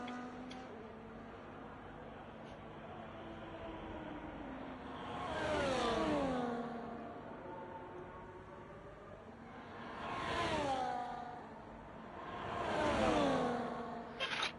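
Racing cars on a track in a racing video game roar past in three separate passes, each engine note rising and then falling away, over a low, steady background drone.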